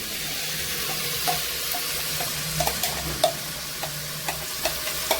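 Ground masala stir-fried in a pan for chicken curry: a soft, steady sizzle with a spoon scraping and knocking against the pan at irregular intervals, close and without talk.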